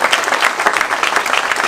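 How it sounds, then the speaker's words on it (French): A crowd at a Yellow Vest protesters' meeting on Île d'Oléron claps together in a brief, loud, dense burst of applause with no voices over it. "Et j'aimerais qu'on les applaudisse aussi"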